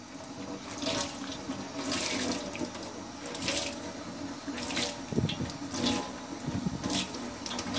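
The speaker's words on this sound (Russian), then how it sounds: "Открываем воду холодную." Cold water runs steadily from a tap onto a towel, a continuous close splashing rush with uneven surges, no voices.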